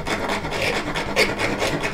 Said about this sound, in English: And a rasp and a file really is a two-handed device.